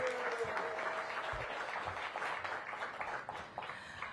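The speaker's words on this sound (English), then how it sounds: "Give them another round of applause." A crowd gathered for a restaurant week kickoff with the mayor claps in sustained applause, a fairly soft, even patter of many hands heard at some distance, with a faint voice briefly audible beneath it.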